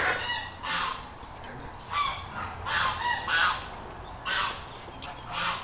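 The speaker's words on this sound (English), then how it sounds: "Oh, and there's the geese." Farm geese honk in a series of loud, nasal bursts that repeat every second or so, close by, with no talk over them.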